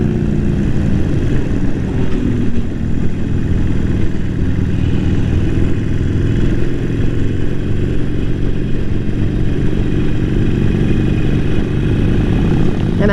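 A motorcycle hums along on a ride with a steady, loud engine drone and heavy wind rush that stays continuous from start to finish, with no clear gear changes.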